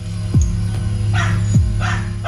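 A pitbull-type dog, the kind raised for fighting, gives a few short yips or whimpering barks at irregular intervals over steady background noise, moderately close with no talking.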